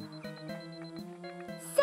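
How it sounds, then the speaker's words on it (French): A cartoon avalanche transceiver gives a run of crisp electronic beeps in even rhythm, about four per second, clear and near over quiet music, ending in a brief brighter chime. "quand je me rapproche, le bip sonne de plus en plus fort"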